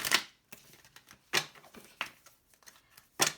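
Tarot cards are shuffled in several quick papery riffles and slides, soft but close, with short gaps between bursts and no talking.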